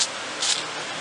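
No-blush lacquer retarder sprayed onto a cloudy, blushed lacquer finish gives a brief hiss at the start, then a stronger fifth-of-a-second spray burst midway, over a steady, soft broadband background.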